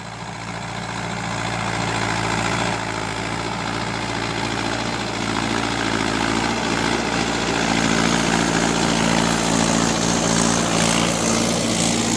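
A tractor runs a Nifa rotavator with 72 blades in first gear, medium throttle, its engine droning steadily and loud throughout with a broad continuous rumble and clatter, no talk.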